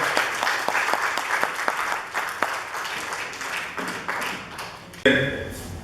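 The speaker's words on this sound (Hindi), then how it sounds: "हमारी तालियों से जो उत्साहवर्धन होता है" Audience applause at a formal gathering in New Delhi, a dense wash of many hands clapping at steady volume with a few sharper claps standing out, ending in a sudden louder burst of other sound.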